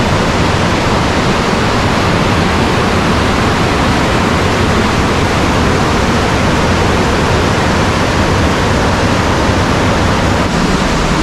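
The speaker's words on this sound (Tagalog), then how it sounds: "Ang lakas ng agos ng tubig." A strong river current rushes through Wawa Dam, a loud, dense, unbroken roar of churning water that fills the whole span close to the listener.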